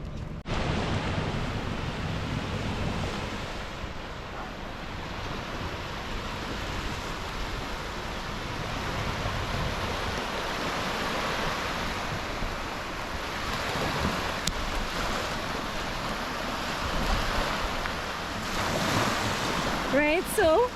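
Surf breaking on the beach at Icacos, Trinidad: a steady, broad wash of waves rolling in continuously, with gusts of wind buffeting the microphone and no voices.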